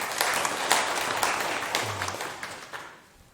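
An audience at a Buddhist teaching session claps in a short, steady round that gradually thins and fades toward the end.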